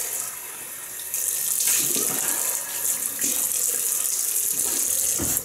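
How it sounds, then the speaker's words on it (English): A bathroom sink tap runs steadily as someone rinses their face while shaving, a loud, close rush of water with splashy surges as hands scoop and splash. "I'm just going to rinse my face."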